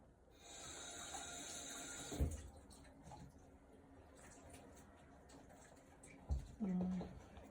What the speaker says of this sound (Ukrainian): Зараз трішки водички з крана.